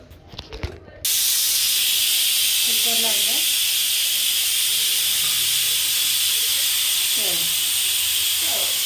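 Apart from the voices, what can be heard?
pressure cooker hissing steam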